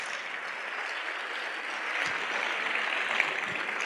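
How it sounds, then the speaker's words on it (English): An audience at a memory technique talk claps together in a steady, dense round of applause that holds at an even level throughout, with no speech over it. "Give yourselves a round of applause."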